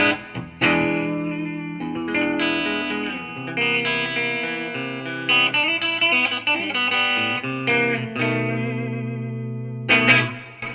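Ibanez AS93 semi-hollow electric guitar with Ibanez humbuckers through a Marshall JVM 205 50-watt head with reverb, playing loud sustained chords and melodic lines with a reverberant tail, alone with no talking.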